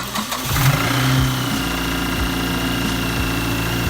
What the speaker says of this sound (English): right now we're just appreciating like the last time this motor is gonna be running